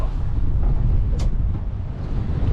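Wind gusting steadily across a small fishing boat out at sea, a constant low roar buffeting close to the microphone with no voices, just continuous blustery noise for a few seconds.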